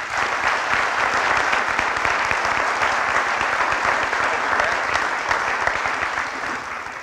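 Sustained, dense applause from an audience at a fall sports awards ceremony honoring a sportsmanship award winner, loud and even for about seven seconds before tapering slightly at the end.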